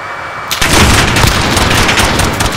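Rapid gunfire in the video game Modern Warfare, a loud sustained burst of shots starting abruptly and continuing dense and close, with no talk.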